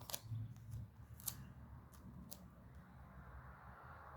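Scissors snip paper for a small lily-of-the-valley themed card, a few quiet, sharp, separate cuts close by in a hushed room.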